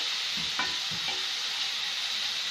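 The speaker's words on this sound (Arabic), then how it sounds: "تتحمر بقى معايا البصلايه، انا بشراها، اقلبها بقى كويس وتتحمر معايا بالشكل ده كده" Chopped onion frying in oil fills the air with a constant bright sizzle, broken by a few soft scraping knocks as it is stirred around the pan; no voices.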